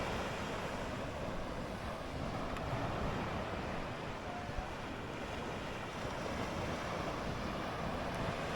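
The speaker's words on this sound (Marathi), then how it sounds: "तुम्हाला कदाचित लाटांचा आवाज ऐकू येत असेल" Sea waves wash onto a Konkan beach near Kudal at night, a faint, low, continuous rumble of surf mixed with soft wind noise.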